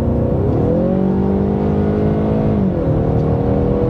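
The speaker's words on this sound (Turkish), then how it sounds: "Ama benim beklediğimden daha iyi çıktı bu motorun sesi." A 2016 Ford Mustang with a 2.3L EcoBoost turbocharged four-cylinder engine revving: a loud, close, steady engine drone whose pitch climbs, holds, then dips and settles, with no speech.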